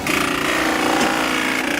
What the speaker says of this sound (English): The book goes over the notching station, notches it one time